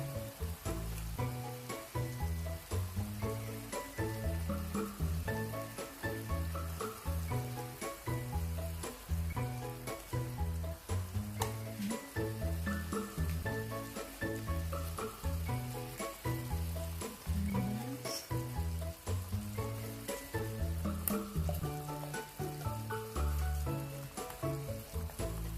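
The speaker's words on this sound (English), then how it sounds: "Okay, put the pineapple slices. And let it caramelize." Pork hamonado with pineapple slices caramelizing in a hot pan, giving a steady, close sizzle and frying crackle that runs continuously throughout with no talk.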